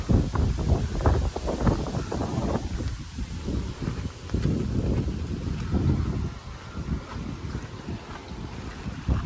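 Strong typhoon wind from Typhoon Kong-rey in Taipei, Taiwan, roars and buffets loudly, with low rumbling surges rising and falling throughout, no voices.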